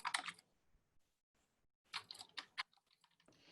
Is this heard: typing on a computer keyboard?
yes